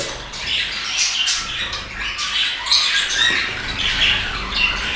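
Finches and budgerigars in a bird room squawk and chirp in a dense, constant high chatter, close and lively, with light fluttering patter underneath and no voices.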